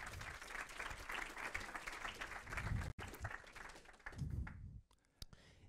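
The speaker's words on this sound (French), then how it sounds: "Merci beaucoup Cécile et Yvan, on peut les applaudir." A small audience claps steadily for several seconds, fading into scattered claps and a few final claps near the end.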